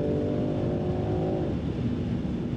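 A Land Rover Defender 90 X-Dynamic P400 accelerates hard, its engine note climbing steadily under a continuous rushing road and wind noise heard from inside the cabin.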